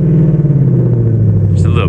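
A cold V8 car engine, with no check engine light, rumbles loudly and steadily as it is given a little gas, its low drone easing slightly, with a voice breaking in near the end.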